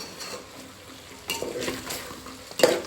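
Spoon scraping and stirring mutton head masala with coriander powder in a pan, soft sizzling underneath, a few clinking strokes growing louder toward the end, no voices.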